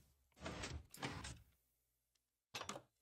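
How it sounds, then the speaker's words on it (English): A door swinging open in Minecraft after redstone levers are flipped, heard as two loud broadband clunks in quick succession, a pause, then another sharp thud. "it opens the door"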